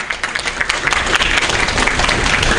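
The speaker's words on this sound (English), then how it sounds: "let's give them another round of applause" A conference audience at a youth digital sustainable development event gives a loud, steady round of applause, dense clapping filling the short stretch without pause.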